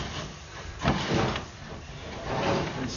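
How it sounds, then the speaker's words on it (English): Chain knocker spinning fast inside a cast iron sewer pipe during descaling, a steady broadband rattling grind with scraping surges, moderately loud and close, no voices. "This chain knocker spins around really fast,"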